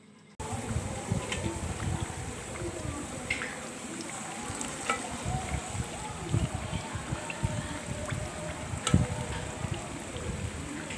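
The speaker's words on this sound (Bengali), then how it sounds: "আমি আলুগুলোকে ফ্রাই করে নিচ্ছি চিপসগুলোকে অবশ্যই ডুবো তেলে ভাজতে হবে" Sliced potato chips deep-fry in oil over medium heat, making a continuous soft bubbling sizzle with faint crackles that holds steady throughout.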